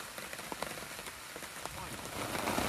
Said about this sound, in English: Under a tarp, the rain. So relaxing and majestic.